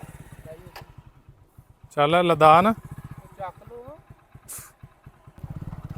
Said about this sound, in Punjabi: ਲੋ ਜੀ ਮੋਟਰਸਾਈਕਲ ਇੱਥੇ ਲਿਆਂਦਾ